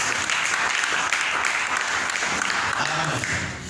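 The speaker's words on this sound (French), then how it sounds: "Est-ce qu'on peut applaudir notre Dieu?" A church congregation claps loudly and continuously in a dense, even wash of applause that fades slightly at the end.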